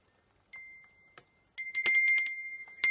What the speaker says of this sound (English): Ah, bells.